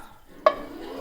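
A short sizzle bursts out as beef hits a hot pan for browning, then a steady frying hiss carries on quietly.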